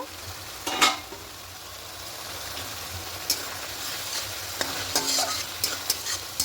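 Satin fish frying in a mustard curry, a soft continuous sizzle under scattered clicks and scrapes of a spatula as the pieces are turned over.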